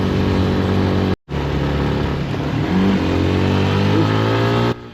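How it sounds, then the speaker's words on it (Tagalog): Motorcycle engine straining as it climbs a steep uphill road, a loud, steady close-up drone with rising pitch, broken by a brief dropout near the start. "napansin ninyo sa motor nga utong-utong na ito ang makina tungod kay pasubida na gid ta"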